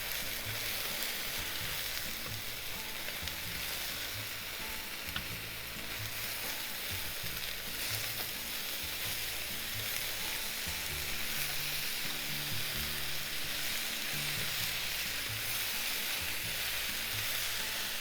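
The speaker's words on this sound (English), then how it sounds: "Once it's nicely browned like this, add onion. And keep cooking until the onion is wilted." Browned chicken and onion frying in a pan for marmalade chicken teriyaki, a dense, steady sizzle with a low rumbling undertone that carries on unbroken and close throughout.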